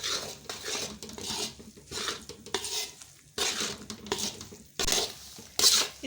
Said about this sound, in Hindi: ये पिसी हुई चने की दाल ऐड करेंगे और साथ साथ चम्मच को हिलाएंगे।